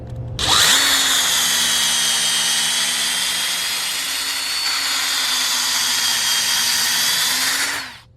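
A power drill spins a piloted reamer through the newly installed valve guides of a 6.2 LS engine from a 2009 Tahoe, a loud, steady, high whine that runs for several seconds before winding down.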